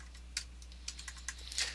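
Code is typed on a computer keyboard in quiet, scattered keystrokes and small clusters of taps, faint over a steady low hum, with no talk.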